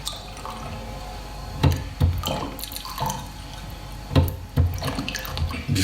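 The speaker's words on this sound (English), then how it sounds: "So we are pouring some wine." Wine is poured into a vessel during a live festival performance, with several splashing, gurgling bursts of liquid spaced irregularly across the span, fairly close and clear.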